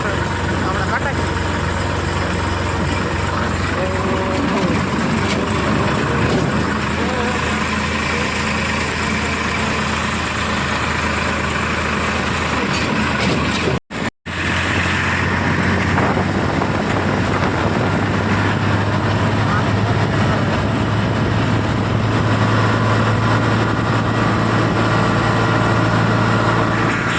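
A farm tractor's engine runs steadily at idle in a village, a low, constant diesel rumble heard up close for the whole stretch apart from one brief dropout midway, with people talking over it.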